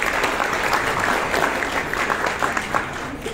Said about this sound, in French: Oui, on peut l'applaudir, merci.